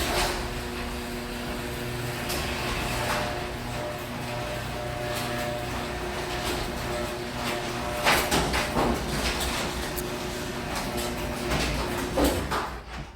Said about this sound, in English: When I raise this door, it's going to go up fine